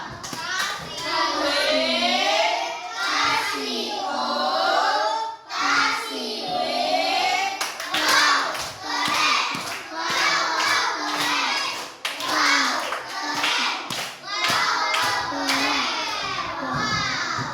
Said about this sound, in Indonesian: kasih tepuk wow dulu. Tepuk wow.